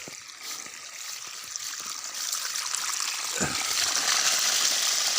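Water from a 0.5 HP pump gushes and splashes steadily, growing stronger and louder over the span, with faint voices in the background.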